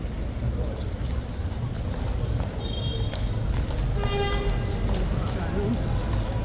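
Horse hooves clip-clopping across a yard near a guard post, crowd and troopers nearby, a steady stream of hoof strikes under crowd noise and voices, with a brief whistle-like tone partway through.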